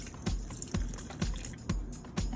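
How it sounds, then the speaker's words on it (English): Water trickling into dhokla batter in a bowl, a faint close liquid pour with soft rhythmic splashy pulses and no voices. "And then in this, I'll put a little water."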